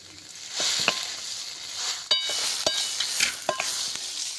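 A vegetarian imitation fish-roe mixture fries on low heat in a pan, a soft steady sizzle broken by close, crisp scrapes and knocks of a spatula as it is stirred.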